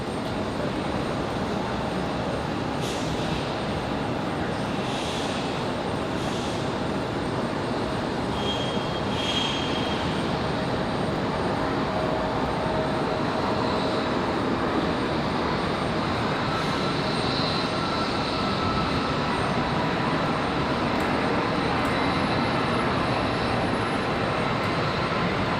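A Boeing 777 at Raleigh Durham airport, heard as a loud, steady jet-engine roar that fills the whole stretch without letting up.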